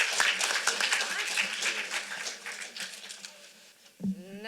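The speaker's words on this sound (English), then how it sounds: "let's give Jupiter a round of applause" Audience applause at a young playwrights' festival cold reading, a burst of clapping that thins out toward the end, with a voice breaking in near the close.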